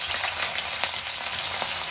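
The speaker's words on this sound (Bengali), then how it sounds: "এবার ঘি আর তেলটা ভালো মতো গরম হয়ে গেছে আমি শুরুতে দিয়ে দিচ্ছি ফুলকপিগুলো" Cauliflower fries in hot ghee and oil, a steady dense sizzle with a few faint stirring clicks, close and alone without speech.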